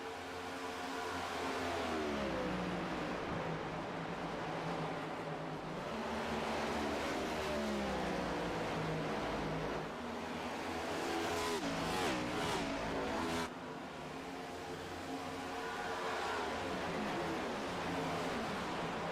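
Race cars on the oval at Charlotte, engines roaring steadily and close, with pitch sweeps as cars pass and shift, forming a dense, continuous wall of motor noise with no talk.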